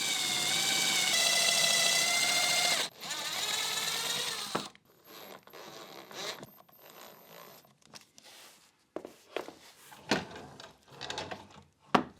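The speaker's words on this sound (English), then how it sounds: "So there's quite a bit of sanding to do to get these ready for finishing." A power sander working on wooden drawer pieces, a loud steady buzz for a few seconds, a short break, then another burst, followed by quieter intermittent scraping and handling bumps.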